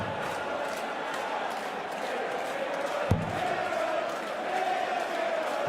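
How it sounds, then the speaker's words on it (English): A darts crowd at a Premier League match sings Peter Wright's name, a steady roar of massed voices from a large arena with a single sharp knock midway. "The crowd now singing Peter Wright's name."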